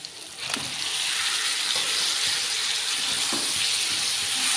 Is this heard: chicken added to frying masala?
yes